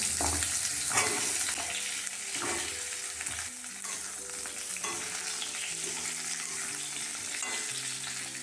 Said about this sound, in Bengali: আলু পটলগুলো সব ভেজে নেব।